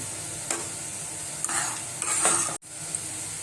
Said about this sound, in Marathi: मध्ये मध्ये चटणी आपण हलवत राहायची लाल होतपर्यंत